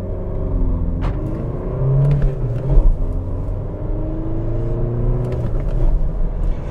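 A 2020 Audi A3 Sportback 30 TDI diesel hatchback with 116 PS accelerates hard on a road. The engine drones and climbs in pitch, drops back at each gear change, and rumbles steadily from inside the car.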